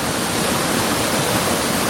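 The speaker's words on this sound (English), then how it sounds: "We got a precarious river crossing here." A river rushes past at a trail crossing in a loud, continuous broadband roar of flowing water with no pauses and no voices.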